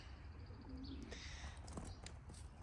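Young racing pigeons cooing softly from inside crates, faint low coos over a steady background hum with scattered small rustles and chirps, no talking.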